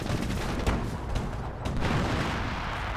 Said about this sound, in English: 25-pounders engaged and got decoy and actual barrage